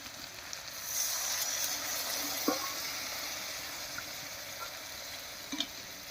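Small mourala fish frying with spices in a pan, a soft continuous sizzle with a couple of faint clinks of a utensil, quiet and steady throughout.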